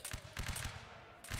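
Musket volleys from a line-battle game with Prussian and Austrian infantry, firing in quick overlapping bursts of several loud, close cracks, with a short pause before the next burst.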